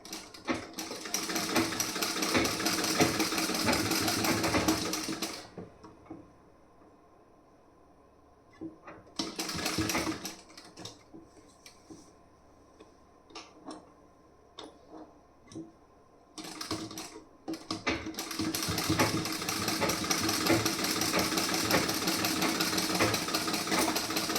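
Sewing machine stitching a piece of a blouse, a steady rapid mechanical whirr in two long runs with a shorter burst between, separated by quieter handling pauses.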